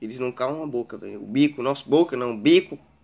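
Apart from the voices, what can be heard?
No distinct noise like a dog, phone or traffic.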